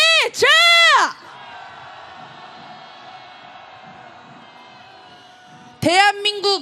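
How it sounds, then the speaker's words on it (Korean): A protest march crowd against the president raises an angry roar, a broad sustained mass of shouting lasting several seconds between a speaker's amplified, emphatic calls at the start and end. "분노의 함성 시작!"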